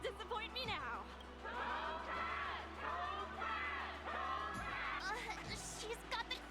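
Crowd cheering and whooping in the Honkai Star Rail Aetherium Wars duel arena, a dense wash of excited voices with yells rising and falling, steady throughout over a low background hum.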